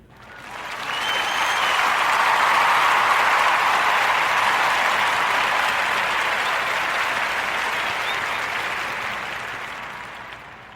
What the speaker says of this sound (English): Round of applause for Romeo's Vegan Burgers